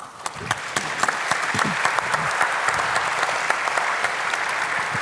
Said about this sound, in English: Just give a round of applause to our panel, please.